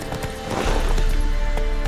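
Horse hooves clip-clop in The Witcher 3 as a mount trots along a road toward an inn, a steady, fairly loud rhythm over low ambient game sound, with no talking.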